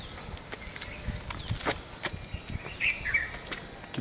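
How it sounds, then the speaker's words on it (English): Birds chirp outdoors in a green park, with scattered faint tweets and a few brief calls over steady open-air background noise and occasional rustling. "The birds chirping."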